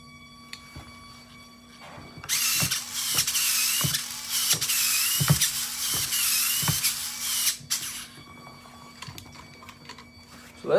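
Two small VEX robot motors spin up together in a steady whirring mechanical drone lasting several seconds, with sharp clicks before and after, close and moderately loud.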